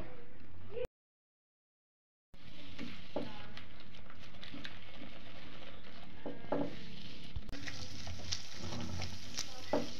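Carrots fry in ghee on a low flame, stirred continuously; a steady sizzle runs under repeated scraping and knocking strokes after a short silent gap near the start.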